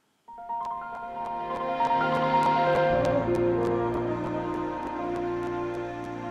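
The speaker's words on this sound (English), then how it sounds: "I love that classic boot up sound" Windows ME startup chime on an old computer: a swelling synthesized musical phrase with layered sustained tones and bright shimmering accents, loud and clear with no talking, slightly glitchy.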